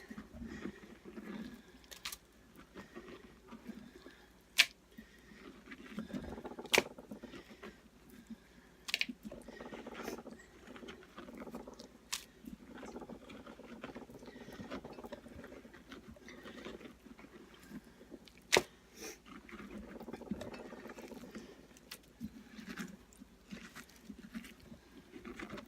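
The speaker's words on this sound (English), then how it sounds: "I just go in there with my hand, rip out some of this guts." A bare hand scoops and rips the stringy guts out of a hollowed pumpkin being carved into a jack-o-lantern. Quiet, wet squelching and scraping continue for a long stretch, broken by a few sharper clicks, with no talking.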